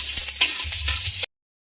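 Sizzling and stirring in a hot pan while aromatics are sautéed before jackfruit goes in, a continuous crackling fry with a few scraping stirs, close and alone, cutting off abruptly.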